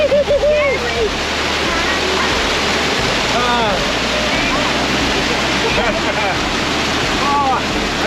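A waterfall at a swimming hole in Arnhem Land roars steadily and close, a continuous rushing wash with wind buffeting the microphone and a few bird calls over it.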